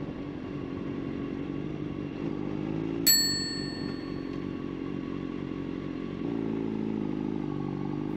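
A motorcycle rides back along a racing circuit in France, its engine a steady low drone throughout with a sharp metallic ding near the middle, and the engine note rising slightly toward the end.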